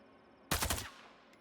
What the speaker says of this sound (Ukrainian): Давайте хоч подивимося на три патрони, як воно стріляє.